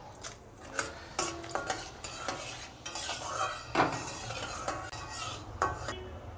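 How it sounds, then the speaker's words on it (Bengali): Split dried red chillies hit hot oil in a pan and get stirred, bringing a soft sizzle under repeated sharp scrapes and clinks of a metal spoon against the cookware, spaced irregularly over several seconds. "এবারে দিয়ে দেবো আমি চিড়ে রাখা শুকনো লঙ্কা"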